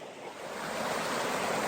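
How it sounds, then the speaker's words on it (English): Creek water rushes in a steady broadband wash, building slightly and then holding constant, with no voices present. "This is a creek that I come to."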